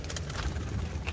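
Pigeons cooing in a low, soft, continuous murmur, close by and steady for a brief moment with no talk.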